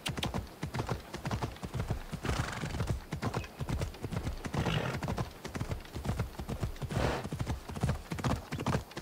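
Horse galloping in the video game Assassin's Creed Odyssey, a loud, rapid and steady clip-clop of hooves running continuously through the whole stretch, with a brief whinny mixed in.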